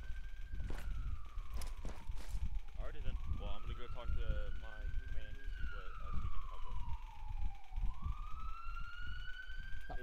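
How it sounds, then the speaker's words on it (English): A wailing siren rises and falls in long sweeping tones, steady and fairly close, with voices and background noise running underneath. "I think it's like a siren."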